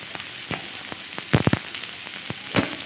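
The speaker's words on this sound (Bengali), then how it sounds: "ওই তেলে কিছু পেঁয়াজ আর রসুন কুচি দিয়ে দিচ্ছি।" Chopped onion and garlic fry in hot oil that was just used for dried red chillies. Sharp pops and crackles burst now and then over a soft, continuous sizzle, close and with no voices.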